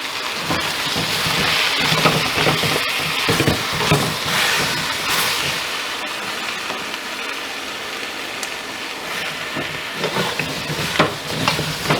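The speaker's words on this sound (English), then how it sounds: "our curry powders on this and stir it in really good." Curry powder is stirred into a sizzling pan while pig trotters are prepared, giving a continuous frying hiss with scraping stirs and occasional clinks, close and steady with no one speaking.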